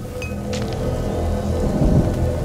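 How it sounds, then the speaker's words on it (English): Steady rain with a low rumble of thunder in the dark medieval setting of the video game A Plague Tale: Innocence, a continuous wash of downpour holding even volume, with a brief thin tone near the start. "Lucas, Hugo, stay out of the rain"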